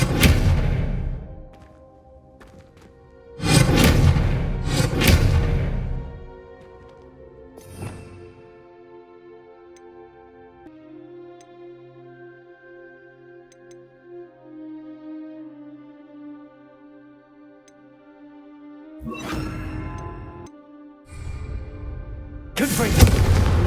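Confringo fire spells in Hogwarts Legacy burst at candelabras as several loud, whooshing blasts, two close together at the start and more near the end, with soft sustained game music between them.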